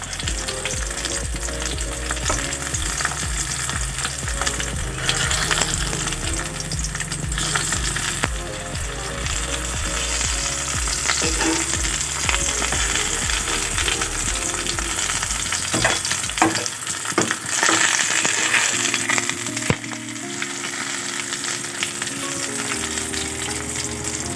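Large puroi (Malabar spinach) leaf fritters fry in hot oil with a constant crackling sizzle, punctuated by occasional utensil clatters and turning sounds, close and loud throughout without any voices.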